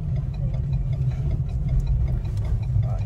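A Ford Ranger Wildtrak pickup engine accelerating, a steady low rumbling drone heard from inside the cab, loud and continuous with faint ticks over it.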